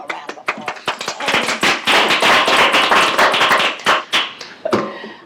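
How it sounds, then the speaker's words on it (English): Board meeting attendees give a round of applause for people who stayed late, a burst of sharp hand claps that swells into dense clapping and then thins back to a few scattered claps. "Let's give them a round of applause"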